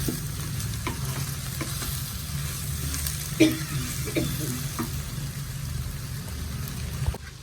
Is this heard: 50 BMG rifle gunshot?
no